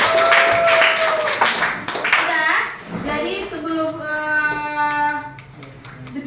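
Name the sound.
applause for classmates in a classroom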